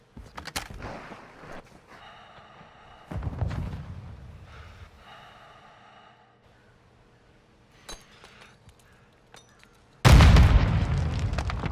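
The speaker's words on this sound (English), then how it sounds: "How did they fucking toss this frag?" A frag grenade bursts in a first-person shooter match with a sudden loud boom near the end, after scattered clinks, thuds and gear noise, leaving a heavy rumbling tail.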